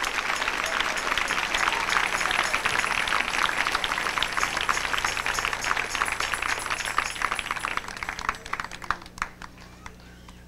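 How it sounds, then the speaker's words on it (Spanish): A church congregation claps for the Lord during a 1998 worship service, a dense, steady roar of hands that fills the room at loud, even volume before thinning out near the end. "Dele palmas con todo su corazón al Señor"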